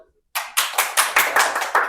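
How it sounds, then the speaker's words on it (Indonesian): After a short silence, clapping breaks out at a casual student talk show, a series of distinct sharp claps in quick rhythm, close and fairly loud, like a small group clapping. "Tepuk tangan dong."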